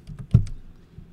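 Several quick keystrokes on a computer keyboard, close and fairly quiet, with one sharper key press standing out among the light clicks.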